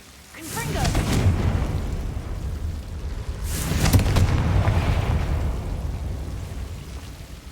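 A Confringo spell explosion in Hogwarts Legacy, with two loud booming bursts a few seconds apart, each followed by a long rumbling tail that fades slowly.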